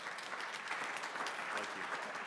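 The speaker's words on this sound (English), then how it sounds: "So just wanted to give them a round of applause too for the quick service." Short burst of applause from the audience at a city council meeting, dense, even clapping at moderate volume with no voices over it.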